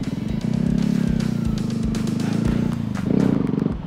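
A motorcycle engine revs during wheelie practice, holding a loud, buzzing pulse close by and rising in pitch near the end as the throttle opens more.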